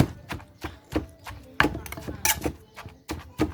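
Knife chopping food on a board, a quick uneven run of sharp thuds, close and fairly loud, with no voices.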